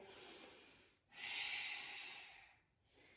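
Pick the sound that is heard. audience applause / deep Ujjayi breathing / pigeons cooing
deep Ujjayi breathing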